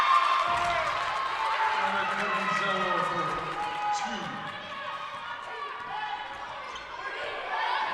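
A crowd cheers at a women's college basketball game, Sussex versus another team in a Division III regional semifinal, with a broad, steady roar of the arena under a commentator's voice and sneaker squeaks on the court.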